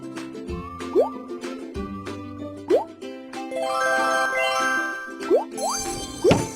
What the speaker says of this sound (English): Decorate with chocolate drops.